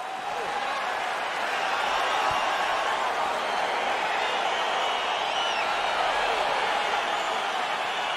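Sold-out arena crowd at a UFC fight in the video game EA UFC 4, a continuous loud roar of cheering and murmur sustained throughout with no distinct breaks.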